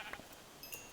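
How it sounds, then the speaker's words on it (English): A single brief, faint bleat from a sheep in the video game Minecraft. "Oh, here's a sheep."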